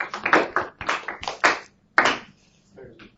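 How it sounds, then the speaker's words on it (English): A few students clap in a calculus classroom, a short run of sharp claps close by that quickly trails off into scattered faint taps. "You're lowering your standards if you're clapping for that."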